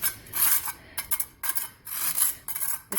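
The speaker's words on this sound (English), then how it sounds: "I decided to go ahead and grab a scrub brush, make a little quicker job out of it." Stiff scrub brush rubbing concrete patch mix into a crack in a garage floor, a close rasping scrape in repeated strokes with short pauses between them, no talking.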